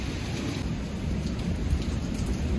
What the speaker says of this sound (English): Listen to this thunder.